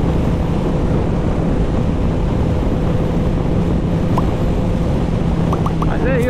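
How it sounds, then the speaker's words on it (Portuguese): Strong wind buffets the microphone in a constant loud roar while riding a 2021 Honda CBR650R motorcycle, its engine droning underneath throughout. "tá uma ventania danada aqui."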